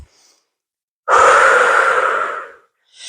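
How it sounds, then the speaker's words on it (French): Deep, loud exhalation during a yoga barre exercise, one long breath out through the mouth lasting over a second, close and alone, with another breath starting at the end. "Une belle respiration. Inspire par le nez. Expire par la bouche."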